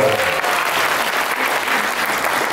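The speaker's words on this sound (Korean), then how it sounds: "이때 박수 주세요." Applause from an audience at a launch ceremony of a world hip hop contest organizing committee in Yangsan, a steady burst of clapping lasting a couple of seconds, fairly close and filling the clip.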